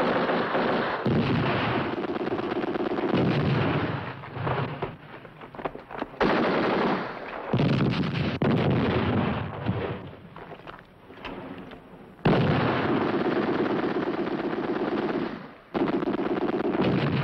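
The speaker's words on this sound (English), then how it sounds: "Occupy the machine gun nest. Lay down mortar fire." Heavy battle sounds from a 1969 film about the Battle of El Alamein: loud, sustained machine gun bursts and rolling artillery or mortar blasts fill the whole stretch, with brief dips between volleys and no speech.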